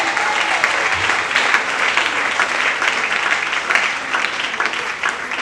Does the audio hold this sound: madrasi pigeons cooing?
no